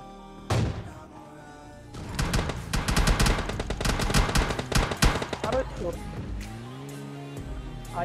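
Rapid bursts of gunfire in PUBG Mobile Lite, loud and close, with repeated shots clustered through the middle of the stretch, while players talk over the shooting.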